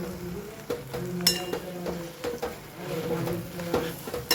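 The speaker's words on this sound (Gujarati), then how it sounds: "સાથે સાથે બટાકા એડ કરી દઈએ. સરસ મિક્સ કરી લઈએ." Potatoes stirred into a spice mix in a pan give scattered clinks and scrapes of a utensil against metal over a light sizzle, with a sharp clink near the middle.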